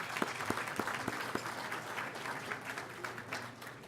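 Audience at a convention breakfast applauds, a steady dense clapping from a room full of people, moderately loud and sustained for the whole stretch.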